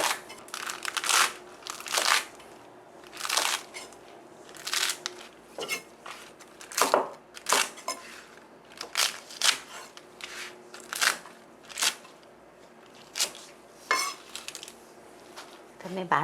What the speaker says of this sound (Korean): 근대를 먹기 좋은 크기로 알맞게 썰어 주시면 됩니다